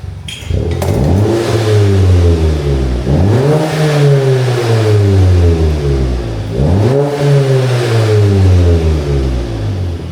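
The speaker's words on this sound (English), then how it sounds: "So we'll get a quick rev, show you before, and then we'll do here and after." A VW Golf GTI Clubsport engine on its stock exhaust, revved up three times close by, each rev climbing and then falling back with a raspy tone, loud and alone over a steady idle.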